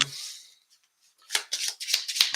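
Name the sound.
shuffling cards in Tomb Raider card game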